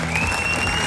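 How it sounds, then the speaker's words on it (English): Applause from a sea lion show audience at an outdoor marine park, a steady dense wash of clapping that fills the whole moment with no pause. "Let's give him a round of applause."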